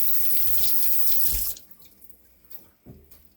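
Beef liver being washed under a running kitchen tap, with a steady close rush of water into the sink that cuts off midway, leaving a few soft drips and handling noises.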